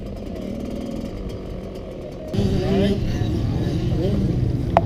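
Motocross dirt bike engines drone at a busy speedpark track on opening day, a steady mid-pitched buzz that grows louder and rougher midway as a nearer bike revs, with people talking over it.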